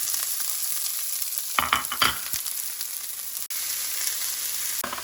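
Onions hit a hot pan and sizzle steadily throughout, with a burst of crackling and spatter as they go in and a few scraping stir sounds, close and fairly loud with no talking.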